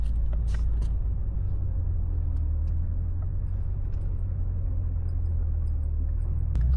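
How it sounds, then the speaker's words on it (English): A car wash runs around an action camera held inside the car: a dense, steady low rumble and whooshing water-and-machinery roar fill the whole span, with a few brief sharp knocks and sprays, no voices. "take it to the old car wash"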